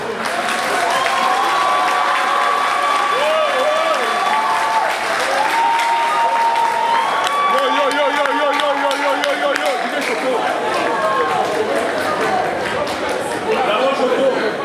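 Crowd applause and cheering at an awards night for bartenders in Cameroon, greeting a DJ named as a winner. It continues steadily under tonal music and a presenter's voice.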